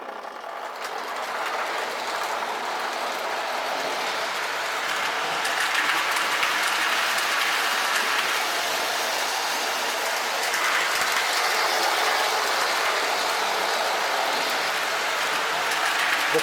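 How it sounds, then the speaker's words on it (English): K-Line Lionel model train running on a home layout, a steady close rolling rumble with faint clickety-clack from the track, holding level throughout with no talk. "let's get the train started."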